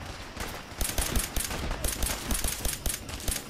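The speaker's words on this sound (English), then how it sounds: "This is my James Bond pistol." Pistol gunfire in Fallout 4, rapid repeated shots in a steady rhythm over a dense, noisy combat background, fairly loud throughout.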